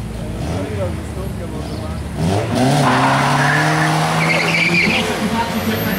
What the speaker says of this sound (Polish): Auto bardzo fajnie przyspiesza